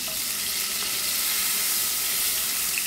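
Meat sears in a pressure cooker pot, giving a steady, even sizzle and hiss heard alone, without voices.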